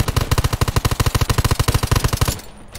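Rapid automatic machine gun fire in the zombie survival shooter Undawn, a loud, evenly spaced burst of about two dozen shots that stops abruptly near the end, with no talk over it.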